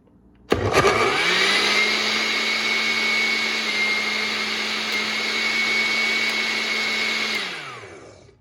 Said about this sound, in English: turn your blender on